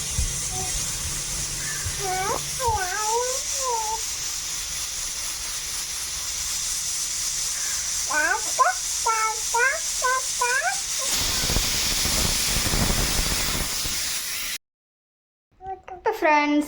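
Pressure cooker hissing steadily as it steams a country chicken curry in a home kitchen, a loud continuous hiss that carries for most of the clip while children's voices chatter over it, then cuts off briefly near the end.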